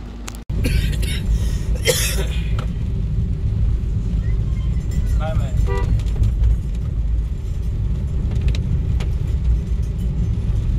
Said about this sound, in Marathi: जाताना तर भरमसाठ ट्रॅफिक आहे